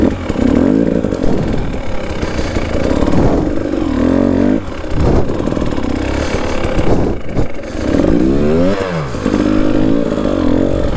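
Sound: KTM 300 TPI dirt bike being ridden

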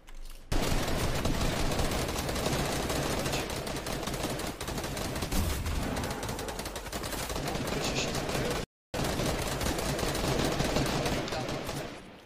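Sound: gunfire in Fortnite video game

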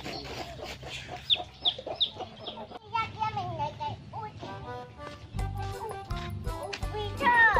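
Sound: chickens clucking

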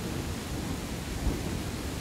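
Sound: thunderstorm while fishing in Land of the Vikings video game

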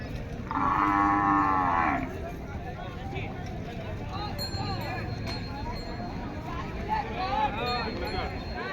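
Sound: bullocks mooing at a cattle market

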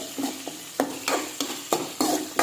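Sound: stirring and roasting stale bhakri with chillies in a pan

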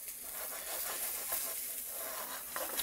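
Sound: farm duck frying in a pan, fat rendering

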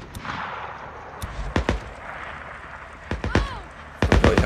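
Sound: gunshots in the video game Days Gone

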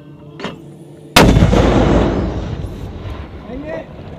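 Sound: 120mm mortar round being fired

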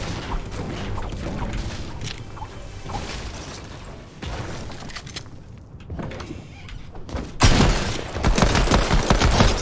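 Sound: gunfire from the new gold pistol in a video game

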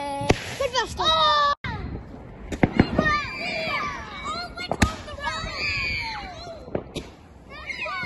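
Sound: fireworks going off

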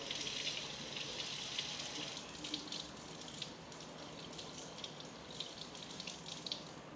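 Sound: washing a sample under running water

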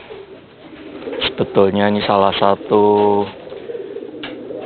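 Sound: racing pigeon cooing

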